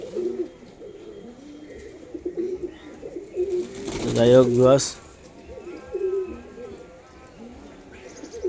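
A pair of lotan pigeons in a loft coos in low, wavering rolls that repeat throughout, close by, with someone briefly talking over them midway.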